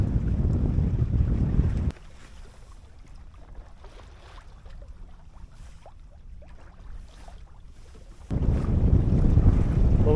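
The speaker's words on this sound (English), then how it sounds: "Got a nice little breeze now." Wind gusts loudly across a sailboat's microphone on Chesapeake Bay, with strong rushing bursts at the start and end and a quieter stretch of water and hull sounds between them.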